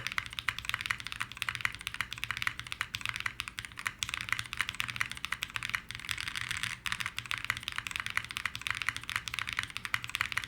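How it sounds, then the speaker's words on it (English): Steady fast typing on a mechanical keyboard fitted with SA keycaps and foam, a dense run of close, muted clacks filling the whole stretch with no talk. "It does sound like an SA keycap set with the foam and stuff."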